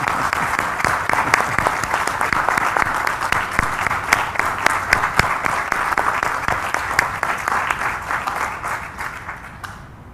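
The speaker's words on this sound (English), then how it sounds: "I think you deserve a round of applause too," A church congregation applauds at a diaconate ordination service, steady sustained clapping from many hands filling the space for about ten seconds before tapering off slightly at the end.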